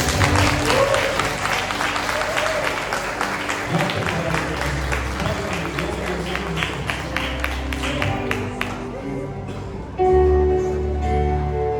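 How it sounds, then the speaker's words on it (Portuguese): A church congregation applauds children during a kids' worship service, many hands clapping in a sustained burst that thins out near the end before a musical tone takes over. "uma salva de palmas para essas bênçãos"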